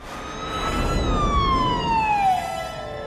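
Dissonant polychord from The Matrix film score, sustained layered tones with bright gliding upper lines sweeping downward, loud and continuous for a few seconds with no voices.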